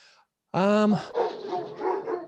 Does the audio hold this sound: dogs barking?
yes